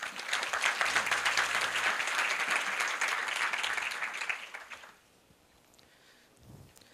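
A university event audience claps for about five seconds, a dense burst of applause welcoming a speaker that fades away into quiet room noise.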